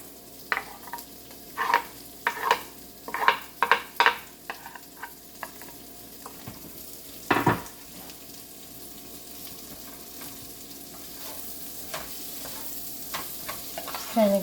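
Peppers and onions sizzle in a frying pan for a breakfast frittata, with a steady low frying hiss beneath a run of sharp stirring and clattering knocks early on and occasional scrapes later.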